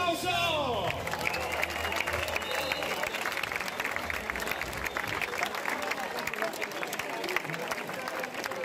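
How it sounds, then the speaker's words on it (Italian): Crowd applause at the Parma Marathon, a broad outdoor wash of clapping and cheering that follows a tone sweep at the start, steady and loud across the whole stretch, with crowd babble mixed in. "Parma Marathon, fatemi sentire l'applauso"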